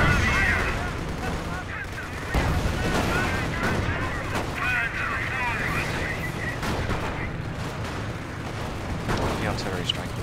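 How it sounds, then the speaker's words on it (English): An artillery strike in a World War I mod for Company of Heroes, a barrage of booming impacts and gunfire, with a strong hit at the start and another soon after over steady battle noise and some talk. "The artillery strike."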